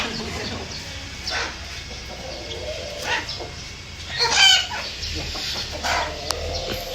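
Chickens cluck intermittently nearby over a rustling outdoor background, with a sharper squawk in the middle and faint voices at times.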